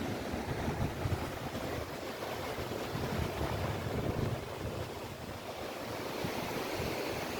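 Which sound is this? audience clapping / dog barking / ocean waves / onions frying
ocean waves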